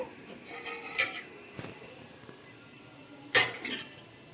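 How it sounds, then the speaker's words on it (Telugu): Clinks and clatter of a pot and dishes as cooked rice is drained in a kitchen, with a few sharp metallic knocks spaced apart over quiet background, the loudest near the end. "నేను ఇప్పుడు స్టవ్ ఆపేసి అన్నం వారుస్తున్నాను"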